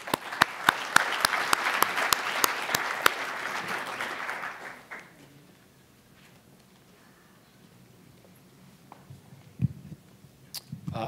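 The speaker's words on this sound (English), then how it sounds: "please give them your attention and applause" A burst of audience applause at a blockchain company launch event, thick clapping for about five seconds that quickly thins and fades to a quiet room with only a few stray sounds afterward.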